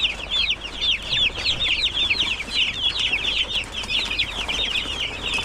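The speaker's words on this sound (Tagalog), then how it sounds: "yung sa mga maliliit natin na manok, ito mga to meron silang sarili nila kasi mga maliliit pa to" Young farm chicks on booster feed peep in a dense, continuous chorus of high, rapid cheeps close by, with no voices over them.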